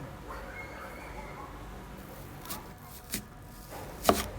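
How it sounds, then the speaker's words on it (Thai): A few sharp knife strikes on a cutting board while slicing an onion, sparse and uneven, near and moderately loud, with the last cut the strongest. "มาหั่นหอมใหญ่กันนะคะ"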